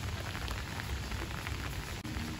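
Rain falls softly on a backyard vegetable garden planted with tomatoes and leafy greens, a faint, even hiss that holds steady throughout.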